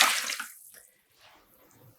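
Water splashes into a large plastic container for home yarn dyeing, a brief burst of pouring at the start that quickly fades, followed by faint trickles and drips.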